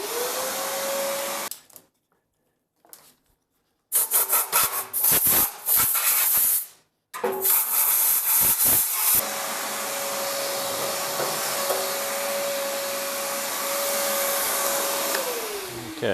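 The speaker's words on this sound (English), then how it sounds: "we're going to go ahead and vacuum inside of this" A vacuum cleaner runs inside a restored Pit Boss smoker, its loud steady whine cutting out briefly twice, then roaring back with clattering bursts as debris is sucked up before settling into a continuous drone.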